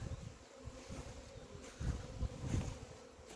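Honeybees buzz busily around a wooden hive in early spring, a close, steady insect drone that swells and thickens at moments as the colony stirs.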